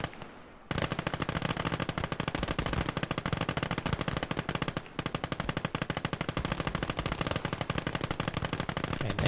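Machine guns fire in Conquest Enhanced, a rapid, dense, unbroken stream of shots with one brief pause, loud and close, with no talking.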